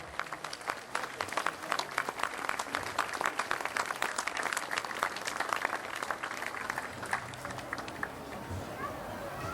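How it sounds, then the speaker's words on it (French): Outdoor crowd applause at a street demonstration in Arles, a continuous spread of quick claps of moderate loudness heard from some distance, with a voice talking over it. "Et vous pouvez, je pense, les applaudir bien fort."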